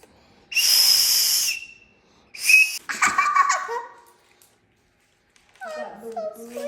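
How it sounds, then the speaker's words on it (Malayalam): Toy whistle with a built-in blowing fan gives two shrill whistle bursts up close, the first long and steady, the second short, followed by children's voices and laughter. "That is a whistle and a fan."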